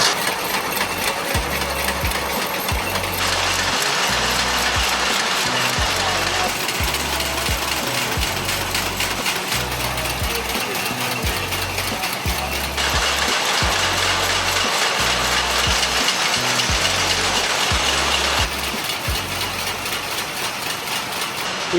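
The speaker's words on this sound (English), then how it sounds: "The conveyor channels all of these individual little tubes into a machine here that bundles them where they are going to be packed with powder next." Factory machinery in a Liuyang, China firecracker plant bundles small paper firecracker tubes fed from a conveyor, giving a loud, steady mechanical clatter with a regular thumping, ratchet-like rhythm that repeats throughout.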